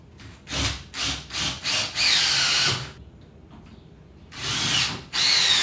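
A power drill drives screws through a 2x8 board into garage ceiling joists. Four short bursts come first, then longer whirring runs with a quiet pause between them, close and loud.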